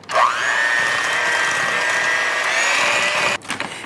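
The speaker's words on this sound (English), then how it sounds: "then we're going to mix that again with our mixer until combined" A handheld electric mixer beats molasses and egg into gingerbread cookie dough with a loud, steady motor whine that runs continuously for about three seconds, then cuts off abruptly.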